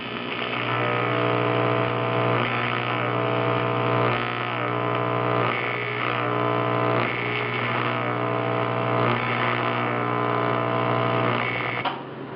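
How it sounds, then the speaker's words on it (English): Steady electric hum of a welder running a bead on aluminium intercooler tubing for a 1976 Mazda RX-5 Cosmo, a continuous buzzing tone held loud and close for about twelve seconds with no talking. "Now we'll just run a bead over it to make it look a bit pretty."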